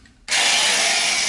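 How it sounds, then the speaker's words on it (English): A power drill whirs loudly and steadily as it bores into a snare drum shell during a DIY rebuild, starting abruptly after a brief quiet moment and running continuously close up. "drill."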